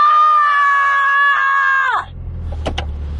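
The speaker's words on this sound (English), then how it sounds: "I'm screaming in the car." A woman lets out a long, loud, sustained high scream inside a car that cuts off abruptly, followed by a low engine and road rumble with a couple of short sharp sounds.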